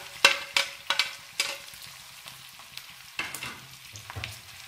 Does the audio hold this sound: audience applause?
no